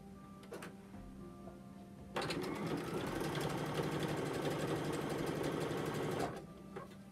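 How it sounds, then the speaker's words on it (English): A sewing machine stitching a fleece hat whirs in a fast, steady run for about four seconds after a few quiet ticks, close and fairly soft, then stops. "and I'm going to sew"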